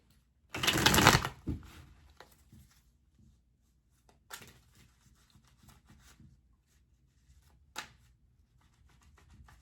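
Tarot cards shuffled by hand: one loud riffling burst near the start, then quiet shuffling and soft card handling, with two brief sharp snaps of the deck later on.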